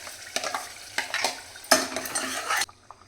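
Spice paste sautéing in oil on a low flame, heard as soft sizzling bursts with spoon scraping and stirring against the pan, close and intermittent, no voices.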